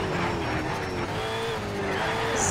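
Hard braking and tyre skid from a race car in the video game Need for Speed Shift, a steady engine drone with a rising squeal held loud and close for a couple of seconds.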